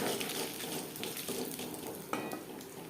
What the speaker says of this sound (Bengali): পাঁচ ফোড়ন তেজপাতা ভেজে নেওয়ার পর